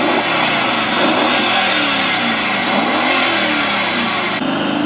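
A crowded 6x6 vehicle engine in a video game revs steadily and loudly, close and continuous throughout with a slight rising and falling tone and no talking over it.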